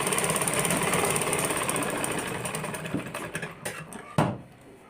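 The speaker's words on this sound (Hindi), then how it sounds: "ये देखिए मैंने डबल सिलाई मार लिया है। अब हम दूसरी साइड पे ऐसे मार लेंगे।" A sewing machine puts a double line of stitching on a collared kurti with a rapid, rattling mechanical run. It slows into a few separate clicks and thumps near the end, close by and with no voices.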